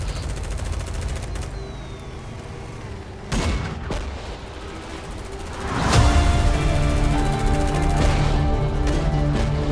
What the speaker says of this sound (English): So much gunfire, I can't even see the guy.